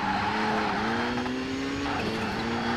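A rally car in the World Rally Championship video game at Rallye Catalunya Costa Brava, its engine droning loudly and steadily with a rising pitch, tires hissing and squealing on the road, with no talking over it.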